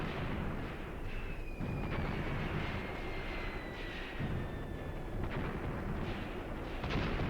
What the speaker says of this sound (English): Oh, that's German mortar fire.